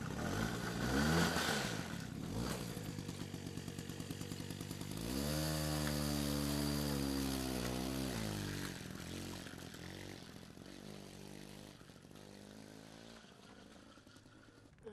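A motorcycle engine starts with a rough sputter, then settles into a steady rising drone as it revs and pulls away, the note sweeping up and fading toward the end, loud and close with no talk.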